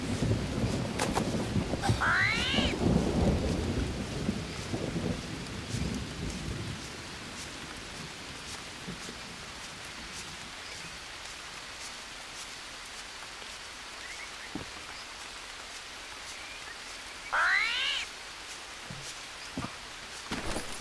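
Night rain and thunder in the survival video game Green Hell: a deep, loud thunder rumble in the first seconds, then steady, quiet rainfall that continues throughout, with a few brief chirps.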